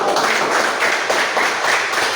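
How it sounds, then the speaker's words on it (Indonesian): A classroom group in a church-culture lesson is applauded: dense, steady clapping from a room of people, close and continuous for the whole stretch, with no speech over it. "tepuk tangan buat kelompok"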